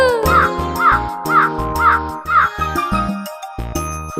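Five loud, evenly spaced caws from a crow in a children's rhyme ring out over a bouncy musical backing, which carries on after the calls stop.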